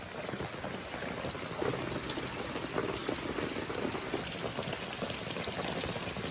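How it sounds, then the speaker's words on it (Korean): Hot spring water trickling out at an outdoor spa near Hanoi, Vietnam, during heavy rain, a steady close splashing flow blended with dense rain patter, continuous and without voices. "이렇게 물이 쫄쫄쫄쫄 나오고요."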